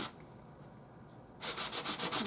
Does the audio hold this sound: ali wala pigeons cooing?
no